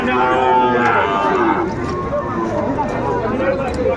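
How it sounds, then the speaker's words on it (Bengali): Sahiwal bull calves moo loudly and repeatedly at a busy cattle market in Dinajpur, long drawn-out lowing close by, over a constant murmur of crowd and chatter. "ষাঁড় বাচ্চা আমরা দেখছিলাম"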